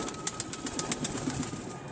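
A young pigeon being released outdoors from a loft, giving a quick burst of flapping wingbeats, close and brief, with no talk.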